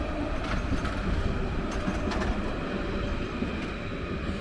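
A train rumbles past on a bridge in Bordeaux, France, with a dense, rattling roar and scattered metallic clanks, steady and fairly loud throughout.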